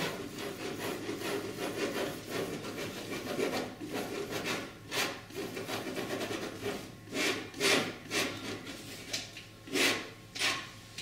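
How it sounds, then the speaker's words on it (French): A palette knife gently mixes oil paint on a palette, producing soft, repeated scraping and smearing strokes that grow more rhythmic toward the end, close and moderately quiet with no talking. "On essuie bien le couteau et on remélange tout ça tout en douceur."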